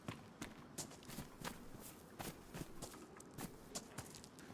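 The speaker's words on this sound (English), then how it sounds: "I can hear more footsteps." Footsteps in the survival video game DayZ, a steady run of crisp thumping steps with small irregular gaps, heard moderately close and alone with no talking over them.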